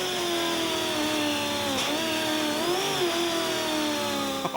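Onboard sound of a Ford Falcon V8 race car at Taupo, its engine droning steadily at high revs with clear pitch dips and rises as it shifts and brakes, loud and close throughout with no voices.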